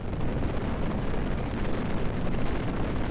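A simulated Hyunmoo-4 missile launch carrying a satellite payload from Naro Space Center, a steady, loud, broadband rocket roar with powerful thrust that holds unbroken throughout.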